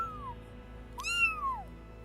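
A kitten meows twice, a short faint call followed by a louder, longer rising-and-falling meow, close by over a low steady background hum.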